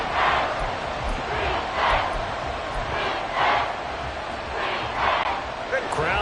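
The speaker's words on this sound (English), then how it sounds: "Crowd getting in it a bit already." Football stadium crowd roaring steadily through an NFL game with the Miami Dolphins on offense, a dense constant wash of cheering with swells every second or so, while a commentator talks over it.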